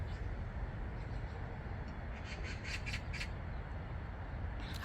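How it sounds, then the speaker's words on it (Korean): Magpies calling in a garden in Sokcho: a few faint, distant harsh chattering squawks in a short cluster over steady outdoor rumble. "오늘 까치가 아주 엄청 많이 왔네요."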